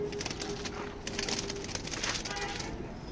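Pigeon from the Netherlands cooing softly in a loft, a low murmur with faint rustling and background noise, no speech over it.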